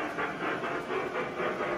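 A K-Line Pennsylvania K4 model steam locomotive with an upgraded speaker gives a rhythmic, hissing electronic chuff, four soft, even pulses repeating close by.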